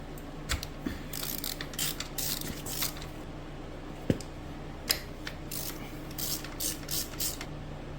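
Ratchet clicking in short intermittent bursts while spark plugs are pulled from a Honda GL1100 GoldWing motorcycle, close and fairly quiet, with occasional sharp metallic knocks between the bursts.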